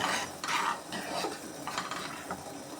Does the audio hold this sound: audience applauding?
no